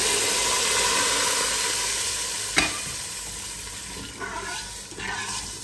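Vermicelli (sewaiyan) frying in a pan, a steady close hiss and sizzle throughout, with a sharp tap of a utensil midway and a couple of brief stirring scrapes near the end.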